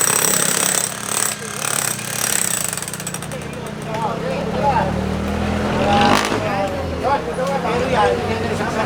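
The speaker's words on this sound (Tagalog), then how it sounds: "Pero yan, sasakyan yan eh." A vehicle rolls past during a road-clearing operation, a loud rumbling engine and tyre roar that swells and fades, with steady background noise and people talking over it.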